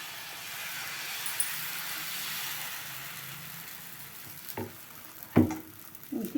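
Dosa batter sizzles faintly on a hot griddle, a soft steady hiss with a few clinks and scrapes of a utensil near the end.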